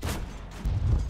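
Tank gun shots in a World of Tanks-style video game, heard as deep booming blasts with rumbling low-end tails, fairly loud and with no talk over them.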